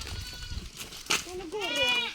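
Goats of a tribal herd in the Manyam hills bleat close by, a couple of wavering cries toward the end, following a brief stretch of low talk.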